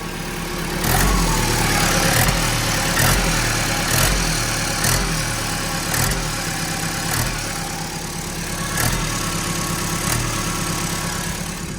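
A Ford Transit van engine with a blowing exhaust manifold runs steadily while it is blipped and revved in a regular rhythm. Each rise brings a puffing leak, heard close and alone without talk.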